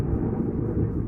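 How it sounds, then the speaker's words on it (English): Thunder in the survival game Cataclysm: Dark Days Ahead during a thunderstorm, heard as a steady deep rumble that fills the whole moment without breaks. "There's a thunderstorm."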